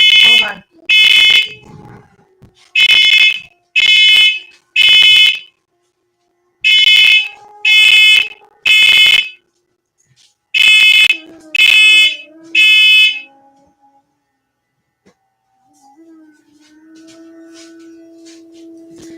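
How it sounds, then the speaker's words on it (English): A smoke alarm goes off indoors with loud, piercing electronic beeps in repeated groups of three, sounding close. Afterward it falls quiet, leaving only a low hum and faint background sound. "I had to fan that shit to make it stop from alarming."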